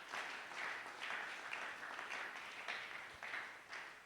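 A church congregation at a Sunday praise and thanksgiving service claps loudly and steadily, a dense, continuous wave of applause with slight rhythmic surges and no talk over it.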